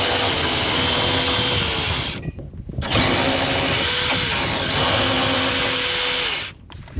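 A power tool or ratchet drives a 12mm socket on a short 3-inch extension into bolts on a Kubota, whirring loudly and steadily in three long runs separated by brief pauses.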